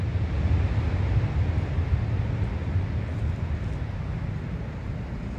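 A Southwest jet airliner's engines roar loudly and steadily during takeoff at BWI airport, a dense, broad rushing thunder that holds without a break.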